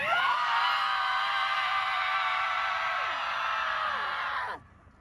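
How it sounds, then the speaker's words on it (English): A person lets out one long, loud, sustained scream that holds steady for several seconds and then cuts off abruptly. "I did a series of screams."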